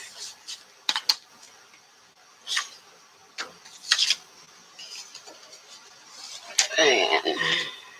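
Paper being burnished onto a butterfly album base by hand, heard as intermittent soft rubbing and rasping strokes, close and fairly quiet, with a longer stretch of brisk rubbing near the end.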